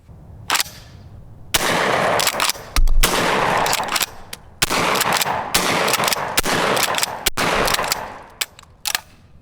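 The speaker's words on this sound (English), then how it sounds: "I'm shooting birdshot because of the price of ammo right now" Blackwater Firearms Sentry 12 pump-action shotgun firing birdshot outdoors, a string of loud close blasts, some spaced out and some quick, separated by the clack of the pump action, with no speech.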